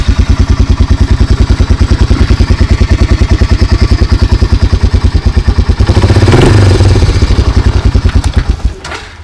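A big-motored bike idles with a steady, loud chugging pulse that swells into a brief rev around the sixth second before dropping back and cutting out at the end.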